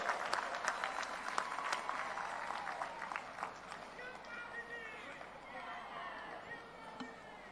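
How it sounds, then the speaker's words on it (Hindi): A large crowd at a Congress rally in Jagdalpur, Chhattisgarh, applauds with a faint, distant, steady patter of clapping mixed with crowd noise, while a voice carries over it. "जोरदार ताली बजा के स्वागत करें।"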